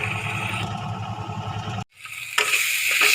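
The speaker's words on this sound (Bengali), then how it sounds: "এবারে আমি কষাবো, ভালো করে আমি এগুলো কষিয়ে নেব।" Bitter gourd, eggplant, pumpkin and potato sauté in hot oil, giving a continuous close sizzle with stirring. It breaks off abruptly, then resumes slightly louder.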